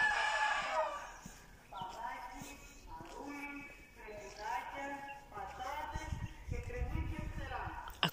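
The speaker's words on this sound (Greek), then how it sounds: "Είχα να ακούσω χρόνια κόκορα." Several roosters crow, some nearer and some farther off, with layered calls overlapping across the clip amid quiet outdoor ambience and faint voices.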